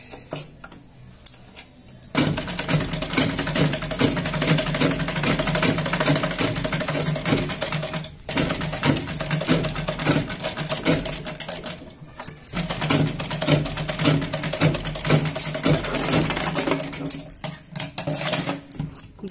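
Sewing machine stitching a zipper onto a fabric pencil pouch, running in a steady, close mechanical rattle for most of the stretch with a few brief pauses.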